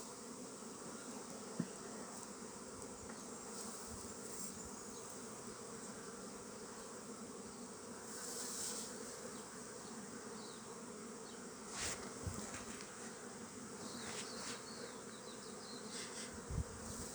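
Honey bees buzz steadily around hive frames during a beehive inspection at Maungatautari, a dense continuous drone of many insects up close with no talking.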